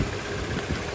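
A 2011 Toyota Highlander engine with 165,000 miles idles steadily after an alternator replacement, a low, even rumble with a broadband hum and no talk.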